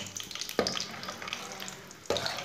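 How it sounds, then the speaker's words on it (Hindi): Cashews frying in about three-quarters of a cup of oil, a close steady sizzle with two brief louder bursts as the nuts are stirred. "थोड़े से काजू डाल लेंगे, काजुओं को हल्का सा ब्राउन कर लेंगे, साथ में हमारा ऑयल भी पक जाएगा।"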